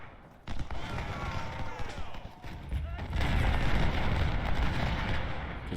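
Artillery fire in the Civil War strategy game Ultimate General: Civil War, rumbling booms and crackling volleys rolling together in a continuous heavy battle din, with a voice speaking over it.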